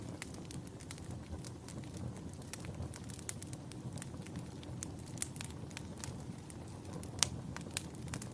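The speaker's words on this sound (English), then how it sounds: "the fire crackling are a comfort to you" Soft, steady fire crackle with scattered sharp pops over a low rumbling hiss, gentle and close.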